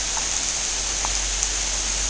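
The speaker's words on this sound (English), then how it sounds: "And it's raining a lot." Steady, dense rain falls without a break, a broad even hiss that holds at a constant moderate level, with a couple of faint drips or taps standing out briefly.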